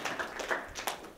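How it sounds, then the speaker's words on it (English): An audience at a panel discussion on climate change and global peace gives a round of applause, a brisk, continuous patter of many hands clapping close by with occasional louder slaps. "I think that deserves a round of applause"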